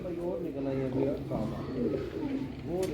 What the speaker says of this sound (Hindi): ये देखें चंद कबूतर और आए हैं